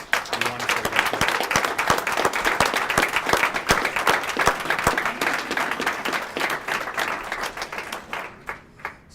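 Dense, steady applause from an audience at a press conference opening a new Salt Lake City employee health clinic, loud and continuous for about eight seconds, then thinning into a few scattered final claps.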